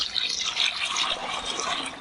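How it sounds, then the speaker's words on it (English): Hot water pours into a container holding turbo yeast, a steady close splashing fill with no talk over it. "I'm just going to add some water so it can start dissolving"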